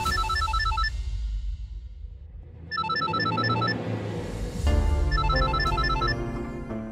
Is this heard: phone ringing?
yes